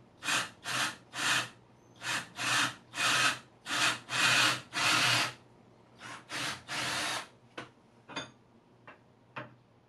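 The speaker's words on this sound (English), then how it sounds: "I've got a 3/8-inch drill bit, and I'm going to try my darndest to make this thing go right down the center" A power drill with a 3/8-inch bit boring into a workpiece for a DIY alligator harpoon, heard as a series of loud, close bursts of about a second each that break into shorter, sharper spurts toward the end.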